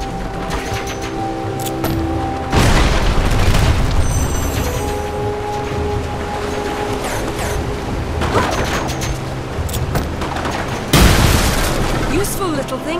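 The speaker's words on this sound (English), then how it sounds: "Useful little things, these bombs. Just try to stay clear of the blast." Bombs go off in Lara Croft and the Temple of Osiris, with several heavy booming blasts at intervals over a constant rumble of game music and effects, with voices talking in between.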